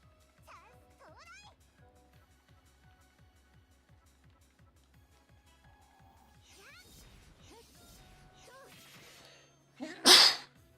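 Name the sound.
sneeze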